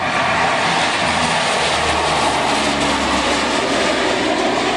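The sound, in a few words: propeller aircraft engine powering up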